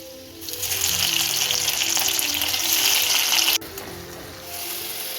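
Prawns coated in cornflour batter fry in butter and oil for butter garlic prawns, giving a loud, steady sizzle that runs for several seconds and then drops abruptly to a quieter bubbling.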